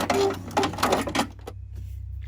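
A sewing machine backstitches the end of a fabric scrunchie seam in a few short, rapid whirring bursts, close up, before the motor stops and a quiet hum remains.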